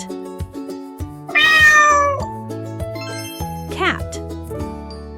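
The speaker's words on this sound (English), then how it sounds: "Cat." A cat meows several times in a children's animal-sound lesson, bright sliding cries rising and falling over tinkly background music, with a child-like voice also heard.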